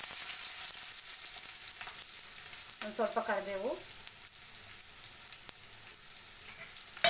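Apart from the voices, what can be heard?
chopped onion frying for tempering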